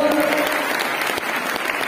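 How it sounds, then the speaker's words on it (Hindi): An audience at an indoor event in Lucknow bursts into dense, sustained applause, a steady wash of clapping with a voice talking over it. "एक जोरदार ताली होनी चाहिए।"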